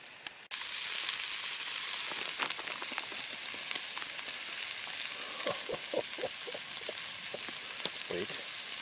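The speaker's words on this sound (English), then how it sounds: "I'm going to fry me up a steak." A steak hits a hot pan at a freezing winter tarp campsite and a loud close sizzle starts abruptly, holding steady with crackles and pops rising in the last few seconds, with no talk.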